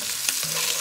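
Meatballs fry in a thin layer of olive oil in a pan, a steady close crackling sizzle with a brief clink of turning partway through, no talk.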